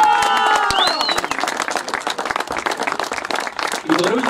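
Applause and clapping from an audience at a podium ceremony of a provincial youth sports games, a dense steady patter with scattered crowd noise and a voice speaking over the start.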